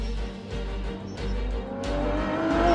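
Aston Martin Vulcan race car driving on a track, its engine droning loud and steady with a rising pitch as it accelerates, and a faint tire squeal near the end.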